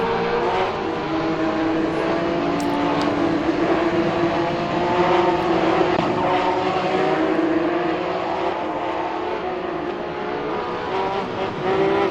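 Porsche 911 GT3 Cup 2017 engine in Assetto Corsa at Laguna Seca, a loud sustained whining drone that rises and falls slightly as the car slides sideways through a corner.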